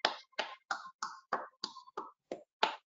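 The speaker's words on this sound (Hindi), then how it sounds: "clap your hand" Hands clapping during an online faculty development session on operations management: nine sharp, crisp claps in a steady, even rhythm, close and fairly quiet, with no talking.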